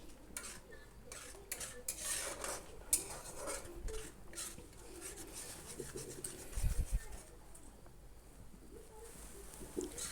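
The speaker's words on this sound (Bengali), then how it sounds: "এবার মশলাটাকে সুন্দর করে কষিয়ে নেবো যতক্ষণ না মশলা থেকে তেল ছেড়ে আসছে" Mustard and chilli spice paste being stir-fried while cooking khoira fish, a quiet run of scraping and rubbing from a spatula against the pan, with soft clinks of metal and a low background hum.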